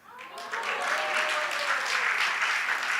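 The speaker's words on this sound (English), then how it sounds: "now you must clap for the next" A summit audience claps at a conference, the applause swelling up from a quieter start into a steady, full patter that stays even to the end.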